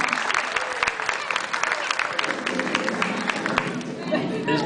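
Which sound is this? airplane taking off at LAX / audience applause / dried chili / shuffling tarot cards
audience applause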